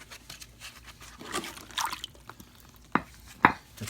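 Rocks and a deer hide shifted in a container of soaking water for hair removal: soft sloshing and trickling, then two sharper knocking splashes near the end, close and fairly faint.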